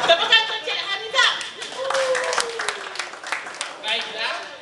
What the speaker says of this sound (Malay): Tepukan untuk Cik Haniza